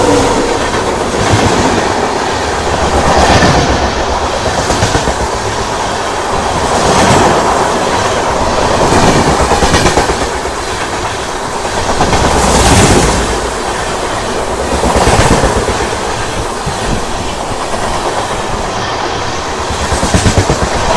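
Bokaro Express passenger train running near Pithapuram, heard from on board: a loud, steady rumble with rhythmic clickety-clack of wheels over rail joints swelling and easing every few seconds, with no voices.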